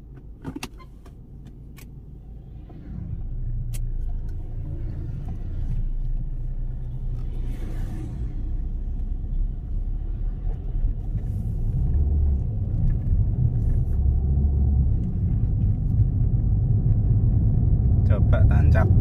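A car pulls away from a standstill on an economy test after fitting a Nitro OBD2 plug-in device, its low engine rumble building steadily over about nineteen seconds with a faint voice in the cabin.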